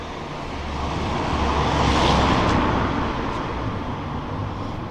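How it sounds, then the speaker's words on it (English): Car passing on a road near an old railway route, a broad whooshing swell that builds to a peak midway and then slowly fades, close by and unaccompanied. "we'll just let this car go past"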